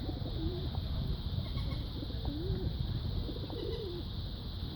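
Several birds call outdoors, with a few short cooing or warbling phrases rising over a constant, dense hiss of background ambience; the calls are moderately clear but somewhat distant.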